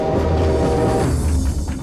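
Steady rumble and rattle inside a moving train, a dense, continuous roar with low clatter that holds at an even loudness throughout, with no voices.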